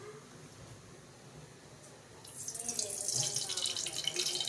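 Cooking oil poured into a hot wok (kadhai) while preparing stuffed tinda with keema, starting as a soft trickle and swelling into a steady hissing, splashing rush for the last couple of seconds, close and fairly loud, with no one talking.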